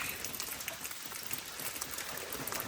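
Rain falls steadily outside a cabin near Talkeetna, Alaska, a dense, even patter of drops close by, with no voices.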